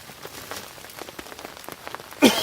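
Rain falls steadily outdoors at a bushcraft camp, a dense patter of drops on surfaces with a sharper louder splash near the end.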